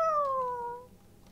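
One clear, close cat meow in the video game ARK, starting high and sliding downward before fading out, with no talk.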